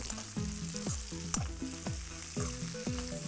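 Onions sautéing in ghee sizzle steadily in a pan, with rhythmic stirring strokes recurring about every half second, close and moderately loud, with no talking.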